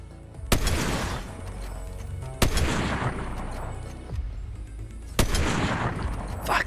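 Gunfire in a video game rings out in three loud, sharp bursts spaced a couple of seconds apart, each trailing into a rumbling roar that fills the gaps between shots.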